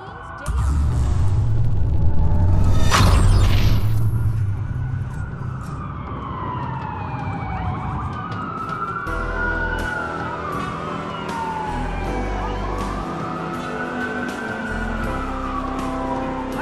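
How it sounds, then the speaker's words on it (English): Police sirens in the video game Watch Dogs sweep up and down repeatedly over a loud, rumbling background with a sharp burst early on, continuing steadily throughout. "Sirens"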